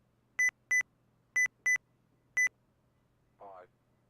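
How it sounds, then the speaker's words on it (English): Five sharp electronic beeps in an irregular pattern sound over a low steady hum while approaching pit road in the iRacing sim racing game, followed by a brief voiced sound near the end. "I definitely need to get rid of that beeping though."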